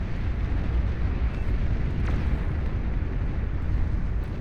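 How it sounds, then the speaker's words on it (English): A capital ship shells targets in the real-time strategy game Beyond All Reason, producing a dense, continuous rumble of explosions that stays loud throughout without talking. "Capital ship continuing to shell away over here."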